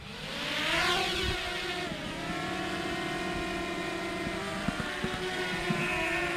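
A DJI Mavic Mini drone hovers close by with a steady, high buzzing whine of small propellers, the pitch shifting slightly as it holds position, with no voices.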